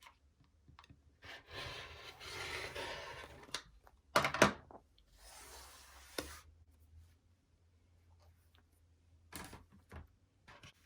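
Rotary cutter slicing along the edges of quilt fabric sashings on a cutting mat, heard as close, rasping scraping strokes in a few bursts with a short sharp clatter midway, then quiet.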